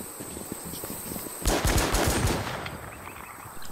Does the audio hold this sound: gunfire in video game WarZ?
yes